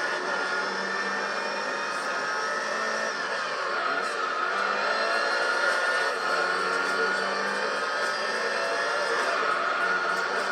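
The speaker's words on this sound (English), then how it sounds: "I just enjoy this engine sound." Race car engine in Gran Turismo 3 holds a constant high, buzzing whine, loud and unbroken throughout, with no speech over it.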